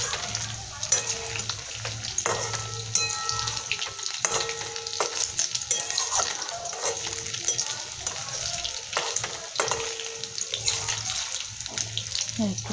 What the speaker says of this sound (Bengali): একটু ভাজা ভাজা লাল লাল হলে এটাকে আমি তুলে নেব